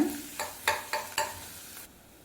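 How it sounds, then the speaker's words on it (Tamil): Sliced medium onions are stirred in hot oil in a pan for poori masala, giving a few rhythmic scraping strokes of a spoon over a soft sizzle, close and clear with no talking. "வெங்காயம் நல்ல கலர் மாற வரைக்கும் வதக்கிக்கோங்க"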